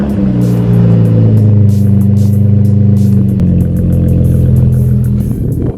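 A RAM pickup truck engine rumbles loudly up close, running with a deep steady idle and rising in a couple of revs, with no one talking over it.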